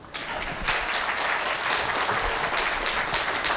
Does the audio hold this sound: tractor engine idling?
no